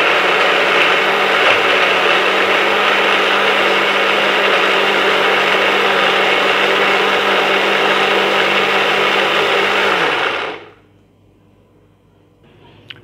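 An electric blender grinds carrots with milk for a creamy carrot jelly juice, a loud steady whirring roar for about ten seconds before it winds down and stops, leaving near silence.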